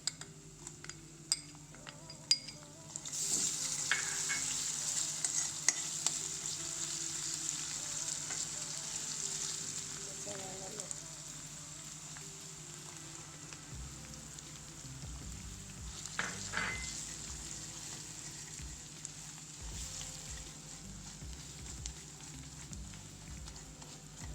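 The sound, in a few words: gram flour with sesame, ginger-garlic paste roasting in pan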